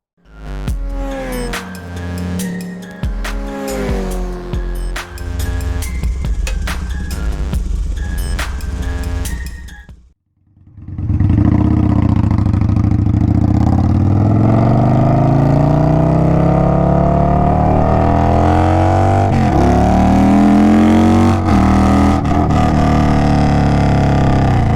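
An Indian Scout Bobber motorcycle's engine revs through rising and falling gear pitches, then after a brief drop settles into a loud, steady drone while riding on the road.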